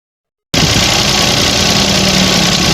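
A Nissan Dayz engine with a running noise fault catches abruptly after a brief silence and settles into a loud, steady idle with a faint vibrating hum, close up.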